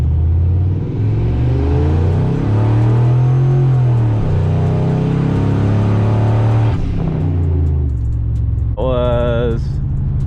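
A single-turbo Ford F150 accelerates hard in a 0-60 run, its engine note climbing loudly for several seconds before easing off, with a brief electronic tone near the end.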